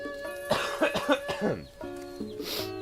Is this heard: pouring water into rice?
no